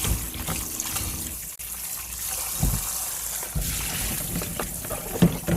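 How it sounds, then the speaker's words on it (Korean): Salted napa cabbage is washed in water, giving a continuous close splashing and trickling with brief handling knocks, and no talk. "물이 쫄쫄 나오면 깨끗하게 씻어갖고요"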